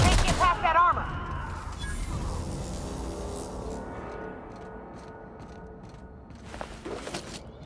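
Gunfire in The Outer Worlds: a loud burst of shots at the start, then a fading reverberant tail and low rumble, with another brief burst of shots near the end.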